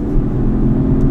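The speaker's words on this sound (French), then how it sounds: "Et puis surtout cette note du V12." Aston Martin V12 Vantage S with its V12 engine revving to about 3000 rpm, a loud, continuous, dense low roar heard close up with no voices over it.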